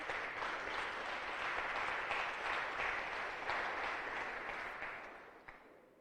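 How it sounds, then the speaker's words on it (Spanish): A church congregation applauding during a sermon, a dense, even wash of many hands clapping that holds steady and then fades away near the end, with no talking over it. "me gustaría que le diéramos una ofrenda de palmas a nuestro gran Dios"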